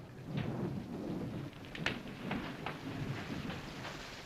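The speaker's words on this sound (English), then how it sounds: "There's a storm coming to them, sure enough." A thunderstorm with rain, steady rainfall hissing throughout while low thunder rumbles roll underneath, with a few sharp crackles and drips, no voices.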